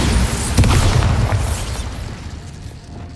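A Bombarda spell explodes in Hogwarts Legacy with a loud booming blast, followed by a rumbling decay and debris that fades over a few seconds.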